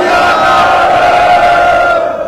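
A large crowd at a Samvidhan Bachao political rally roars a Sikh jaikara in unison, one loud, sustained collective shout lasting a couple of seconds before tapering off.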